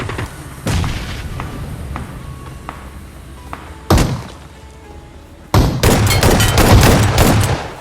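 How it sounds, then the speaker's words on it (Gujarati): A bomb is thrown and explodes in a mobile action game: several sharp thuds and bangs, then a loud burst with a sustained rumbling crackle of blasts near the end. "બોમ્બ નાખું છું"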